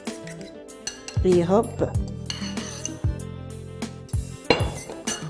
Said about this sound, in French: Nos œufs, on va les battre en omelette.